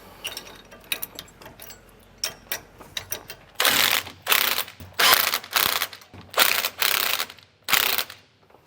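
A hand ratchet tightens the bolts on a Roadmaster Exact Center steering stabilizer bracket on a 2005 Winnebago Adventurer, with light clicks first and then loud, fast bursts of ratcheting in repeated strokes, close up and with no talk.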